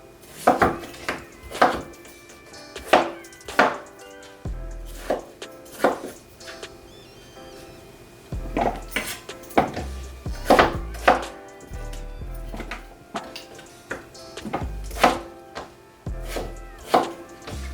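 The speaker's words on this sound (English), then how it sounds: "I'm just cutting the potatoes so we have smaller pieces." A knife dices potatoes on a cutting board, making a long run of crisp, irregularly spaced thuds and taps with short pauses, close and loud, with no speech.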